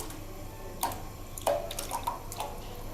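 Pieces of boneless chicken drop into water in a wok, making a few soft, separate splashes and drips against a quiet, low background hum.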